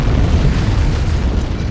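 A deep, sustained roar from an antimatter charge explosion aboard a ship in a Halo CE cinematic, heavy rumbling low end filling the whole stretch at high, steady loudness, with no speech.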